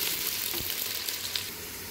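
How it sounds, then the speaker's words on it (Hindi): Chopped onions frying in hot oil in a pan for a kofta pulao, a steady close sizzle with faint stirring, no voices. "ऑयल हमारा गरम हो गया, इसमें डालेंगे प्याज, और इसको हल्का सा ब्राउन कर लेंगे।"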